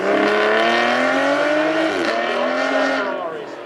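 A Ferrari's 6-litre naturally aspirated V12 of 580 horsepower screams loudly on a race track, a sustained high-pitched wail whose pitch dips briefly and then climbs again before easing off, with a voice talking faintly underneath.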